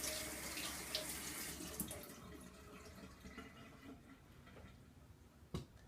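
Tap water runs into a sink while meat is washed under it, a faint steady splashing with scattered clinks and one sharp knock near the end, no voices.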